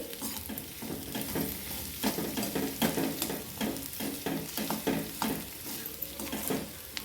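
A spatula scrapes and tosses salted vegetables around a hot pan in repeated strokes, with a steady sizzle of frying underneath and no voices.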